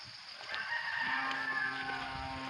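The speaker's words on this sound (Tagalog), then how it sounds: "mga ganito lang marinig na ninyo dito, yung mga huni ng hayop" Farm animals call faintly from a distance on a rural Philippine province property, with a steady drawn-out bellow over soft outdoor background noise.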